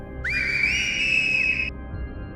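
A single long, high whistle that rises quickly and holds steady for over a second before cutting off, clear and prominent over a low background hum.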